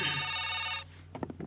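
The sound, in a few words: telephone ringing, incoming call on radio show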